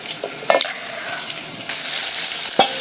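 Round-cut onions fry in a pan with a steady, loud hiss, broken by a few brief clinks of stirring near the start and end, with a brighter, fuller sizzle rising partway through.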